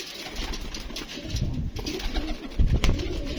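Flying pigeons cooing nearby, soft repeated low coos over a faint background hiss, with a louder burst of cooing toward the end.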